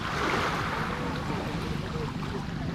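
Ocean waves wash against the Zambales–Pangasinan coast at sunset as a steady, close, hissing surf rush with no pauses or talk.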